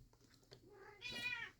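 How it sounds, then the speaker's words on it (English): A house cat gives a single short, rising meow, close and fairly quiet, alone without any talking. "Sorry about that, my cat can't make up her mind."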